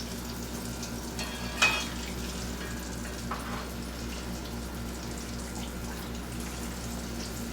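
Tofu fries in hot oil with a steady, soft sizzle and crackle, continuous and fairly quiet, with a brief clatter near the start and no talking.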